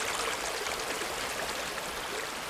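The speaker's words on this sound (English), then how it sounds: "ending up with this steady flow of this river." A river flowing steadily through restored, vegetated land, a broad continuous rush of water with even, unbroken texture and no voices, heard close and moderately loud.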